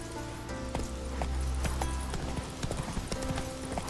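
Roach, a horse in The Witcher 3, gallops with a steady rhythmic clatter of hooves against a busy game soundscape, moderately loud, with no speech.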